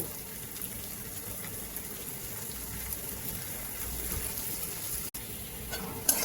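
Chopped garlic and onion fry gently in a pan, a soft, steady sizzle with faint stirring, quiet and close throughout.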